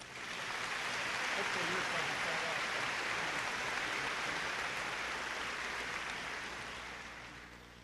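At a 2017 high school commencement, a large crowd applauds the valedictorian in a broad, sustained wash of clapping that swells early and slowly tapers off toward the end, heard from a distance in a big venue.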